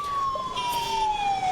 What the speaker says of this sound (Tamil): இந்த ஆம்புலன்ஸ் சத்தம் ஓய்ந்த பாடில்லை.